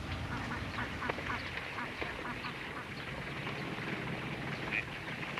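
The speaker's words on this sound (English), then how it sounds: "Cruisers observe Peking duck on the hoof" Peking ducks quack in the Chinese countryside near Tsing Tao, scattered calls rising over a busy, murmuring outdoor background at moderate distance, fairly faint and mixed with ambient noise.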